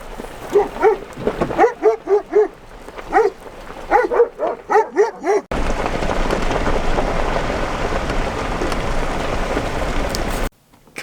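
Puppies bark in quick, high yapping bursts, close and loud, repeating in clusters for several seconds before a steady wash of rain-like noise takes over.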